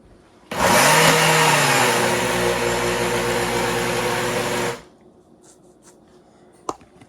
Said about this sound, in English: I'm using an old blender because you want to use either a blender or a processor